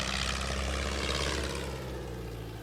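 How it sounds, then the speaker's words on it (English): A small propeller plane towing an advertisement banner drones low overhead in a residential neighborhood, a steady loud engine hum with a low tonal rumble that holds throughout and eases slightly toward the end. "the plane that buzzed in low over this East Matunic neighborhood"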